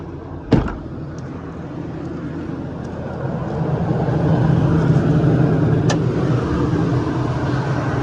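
A 2019 Ford F550 diesel truck engine starting and idling with a low, steady rumble that grows slightly louder, after a sharp click near the start.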